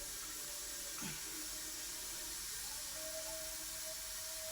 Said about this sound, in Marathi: आता हे काढून चाळणीमध्ये काढून घ्यायचे